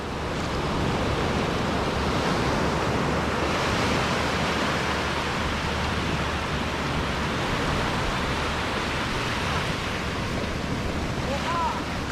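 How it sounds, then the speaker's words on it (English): Ocean surf at New Smyrna Beach, steady broad wash of waves rolling and breaking nearby as the tide goes out, with a soft voice faintly underneath. "The tide is going out really fast today."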